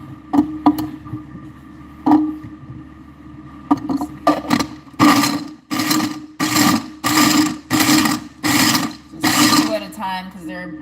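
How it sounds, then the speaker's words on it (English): A hand-pumped food grinder chops dense, large carrot pieces for carrot cake, first with scattered clicks and then a run of regular, loud grinding pumps about every half second, ending in a brief rattle. "Go ahead and throw some of these in the grinder."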